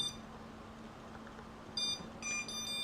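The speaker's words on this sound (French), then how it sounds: "là, vous entendez un bip. Et pourquoi vous entendez ce bip? Parce que je n'ai pas touché la télécommande depuis un moment." Short electronic beeps from the remote control of a Cheerson CX-23 drone, warning that the sticks have been left untouched; two bursts of high, even tones sound close over a steady motor hum.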